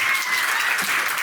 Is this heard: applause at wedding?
yes